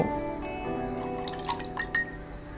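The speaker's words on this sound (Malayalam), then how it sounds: "പേപ്പർ നനച്ചു കൊടുക്കുകയാണ്" Water drips and trickles as a brush wets watercolor paper for a rooster painting, a few small splashy drops standing out over a faint steady background.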